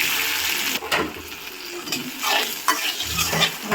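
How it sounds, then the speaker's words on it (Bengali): Onion, green chili and garlic sizzle in a hot pan with salt as a utensil stirs and scrapes through them, the frying hiss close and steady with intermittent stirring scrapes. "পেঁয়াজ কাঁচামরিচ রসুনগুলো প্রায় ভাজা হয়ে এটাকে একটু বেশি করে ভেজে নেব"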